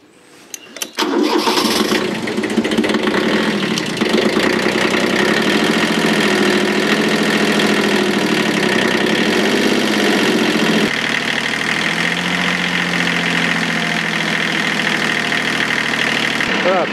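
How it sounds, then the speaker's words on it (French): A Kubota B7100D tractor's diesel engine cranks and catches, then settles into a loud, steady idle with a knocking throb, its pitch shifting slightly partway through. "il faut faire tourner le moteur quelques minutes à mi-régime avant d'utiliser l'hydraulique"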